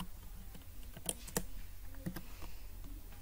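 Faint, sparse keystrokes on a computer keyboard as Kotlin code is typed, a handful of light taps and clicks over a steady background hiss with no speech.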